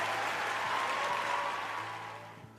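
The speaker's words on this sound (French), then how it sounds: "Est-ce qu'on peut applaudir pour eux, s'il vous plaît?" An audience at a televised talent show opening night applauds, a continuous roll of clapping that swells and then gradually fades, with no talk over it.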